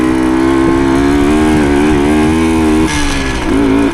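A 1975 Suzuki TS125 Duster motorcycle rides on dirt trails, its engine loud and close with a strong buzzing drone that holds steady, dips briefly, then climbs again.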